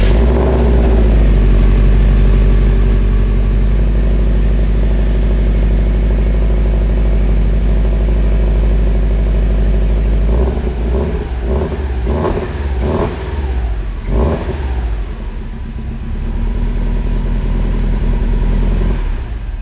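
Car engine with an X-Force catback exhaust on a hatchback running a stock tune with 1200 cc injectors, loud and close, holding a steady drone then blipping through several sharp revs in a row.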